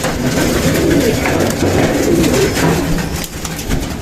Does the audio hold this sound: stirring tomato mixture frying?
no